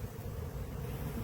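Honeybees buzzing at an open backyard hive while frames are being worked, a dense continuous hum close up and fairly quiet, with no voices.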